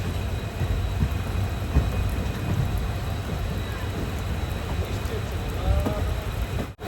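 A passenger train arriving at Shoranur Junction from Nilambur, a steady rumble of rolling wheels and carriages with a faint squeal, under occasional voices.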